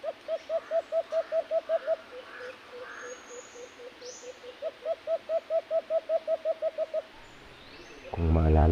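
A bird gives rapid, evenly spaced hooting calls in two long runs with a short pause between them. The calls are close and steady, and a loud rustle comes in at the end.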